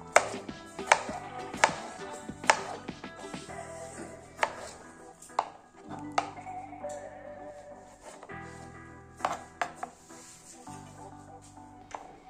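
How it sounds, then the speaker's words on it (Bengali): Knife chopping two tomatoes finely on a board for a Jamaican brown stew chicken, a quick series of sharp, close, uneven cuts that pause and resume, with faint kitchen clatter. "দুইটি টমেটোর বোটা ছড়িয়ে নিয়ে আমরা সেগুলো কুচি কুচি করে কেটে নেব।"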